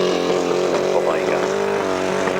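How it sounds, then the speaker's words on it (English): Grasstrack sidecar engines at a 1995 race start, revving hard and rising in pitch as the tapes fly, loud and close, a dense blare of several machines with faint talk blended in. "Revs rise, tapes flying, away they go."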